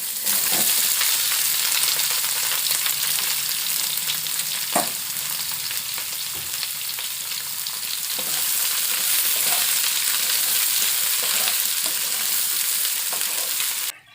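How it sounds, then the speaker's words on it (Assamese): Sliced star fruit frying in a wok makes a steady, loud sizzle and crackle throughout, with a few faint stirring scrapes and no voices. "মই ৰহদৈখিনি অলপ সময় ভাজি ল'ম।"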